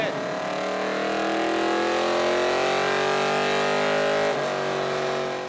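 A freshly installed LS3 V8 in a 1972 restomod truck roars on a chassis dyno, revving loudly and steadily climbing in pitch through a long pull before a brief dip near the end, with a voice faintly underneath.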